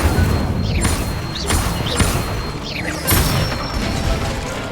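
Incendio fire spell cast in a Harry Potter video game, a series of whooshing bursts and crackling flares at irregular intervals over a low rumbling bed, close and fairly loud.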